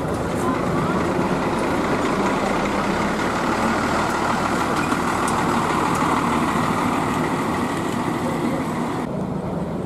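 A Sinar Jaya 3WX coach bus bound for Pekalongan idles at the terminal before departure, its diesel engine a steady, continuous drone with a low rumble throughout.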